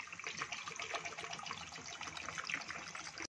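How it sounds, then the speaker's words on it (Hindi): One litre of chilled fridge water poured over a tray of ice cubes while making rose rasgulla, a steady close splashing gush that runs for about three seconds and then stops abruptly. "अब हम इसमें डाल देंगे 1 लीटर फ्रिज का ठंडा पानी"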